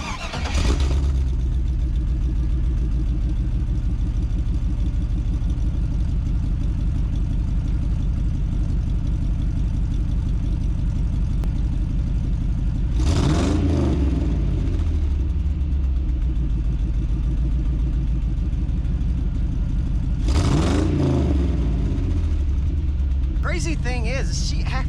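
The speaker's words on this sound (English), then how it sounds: "So this will be a cold start." A 5.3L V8 cold start through catless MagnaFlow true dual exhaust with shorty headers: a sharp start-up roar, then a steady deep rumbling idle, broken twice by brief blips of revving, loud and close.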